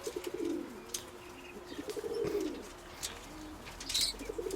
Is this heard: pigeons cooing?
yes